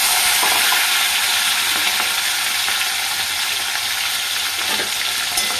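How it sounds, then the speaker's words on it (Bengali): Shrimp fry in hot oil with green chilli and nigella seeds, giving a loud, dense, unbroken sizzle that holds steady throughout with only faint stirring touches and no talk. "কাঁচা লঙ্কাটা দিয়ে দেবো ফোড়নে, কালো জিরে দিয়ে দেবো, চিংড়ি মাছটা দিয়ে দেবো,"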